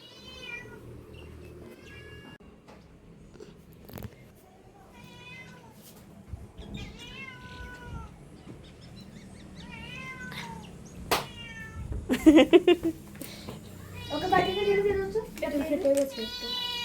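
A cat meows repeatedly in a home, its cries rising and falling in clear bursts, with louder, more insistent calls near the end; a voice and other talk are faintly mixed in.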